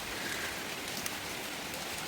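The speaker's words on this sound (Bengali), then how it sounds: "আজকে দুপুরের পর থেকে বৃষ্টি শুরু হয়েছে, হাইরে বৃষ্টি" Afternoon rain falls on a rural homestead, making a soft, even hiss of drops that holds steady throughout.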